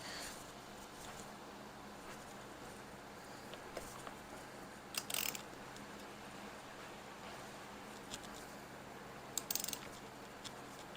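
A ratchet tightens a bolt to seat the harmonic balancer and timing cover on a Ford small-block 302 5.0 V8, faint repeated clicking with two brief louder bursts of ratcheting, no talk.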